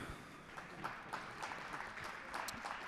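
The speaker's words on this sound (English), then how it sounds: "Big round of applause for Tammy Lee." An audience gives a round of applause for a lifter at a youth and bench-only powerlifting meet: a dense, moderate patter of many hands clapping without pause.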